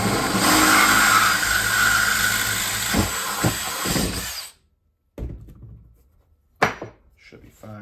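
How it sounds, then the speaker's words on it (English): A loud, continuous power drill whine for several seconds as it drills a hole in aluminum, then it stops, leaving a few short scrapes and clicks in near silence. "So I'm gonna drill this hole out."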